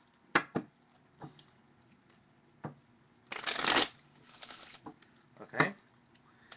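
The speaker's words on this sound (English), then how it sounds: "So what I'm going to do is just take the deck and I want to shuffle it up a little bit." A deck of playing cards is shuffled up close: scattered taps and snaps of handling, then a dense burst of riffling, a shorter second riffle, and a few more card taps, with no one talking.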